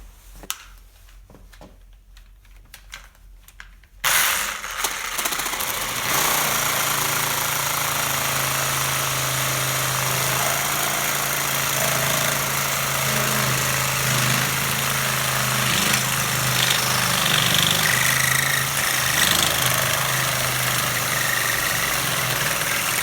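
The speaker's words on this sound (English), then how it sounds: "we're gonna go ahead and cut this in half with the Makita" A Makita power tool starts abruptly and runs as a steady loud whine with a low droning hum while cutting a 3M 6001 cartridge filter in half, continuing without pause.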